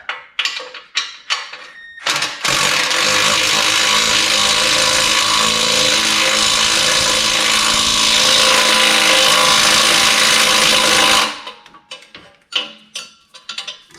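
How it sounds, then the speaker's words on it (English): An impact wrench tightens an exhaust bolt on a Jeep ZJ with a 4.0L engine during an exhaust replacement. Brief clanks come first, then a loud continuous rattling buzz for about nine seconds, then scattered metallic clinks. "That's about all the impact's going to give us."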